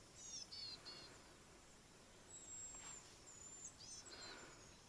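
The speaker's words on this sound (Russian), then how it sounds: "сейчас птички поют, но будет слышно, не будет." Small birds give faint, high, thin chirps and short whistled phrases in a taiga birch forest at night, scattered and distant over quiet background hiss, with no talking.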